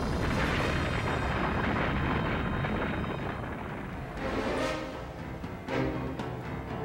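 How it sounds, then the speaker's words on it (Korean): A massive explosion aboard the ship Ukishima Maru in Maizuru Bay, rendered as a continuous deep, roaring rumble that fills the space, swelling slightly with a few sharper cracks near the end. "그리고 폭발했다."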